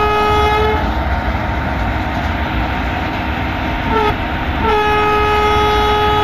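A passenger locomotive horn in Indian Train Simulator sounds loud and sustained over steady rumbling train noise, cutting off briefly near the end before resuming.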